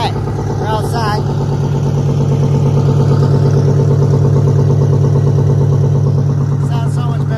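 A cabover truck engine runs with its mufflers removed outdoors, a loud, steady, throbbing idle with an even rhythmic pulse and a brief rev near the start, close to the microphone.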